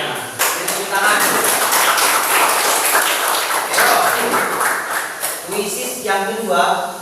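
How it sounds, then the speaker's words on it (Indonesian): Audience at an Indonesian Quran recitation and tajwid quiz event applauding, a dense burst of clapping that runs several seconds with voices talking over it. "Tepuk tangan"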